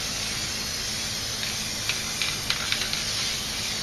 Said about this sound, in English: now I'm going to spray some clear here